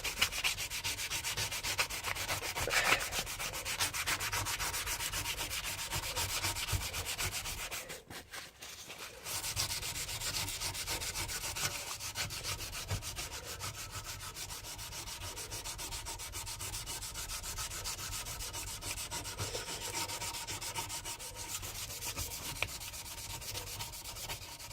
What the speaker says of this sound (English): I'm just going to sand this down